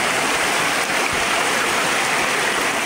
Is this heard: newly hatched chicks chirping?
no